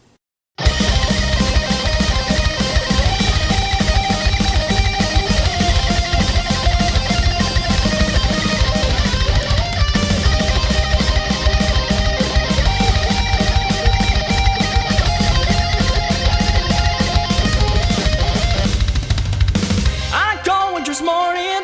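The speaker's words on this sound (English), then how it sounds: "here's the backing track without the chords that I just taught you" A loud, dense full-band metal backing track for a song with pounding fast drums, bass and keyboards, playing continuously without the rhythm guitar chords for about twenty seconds before trailing off.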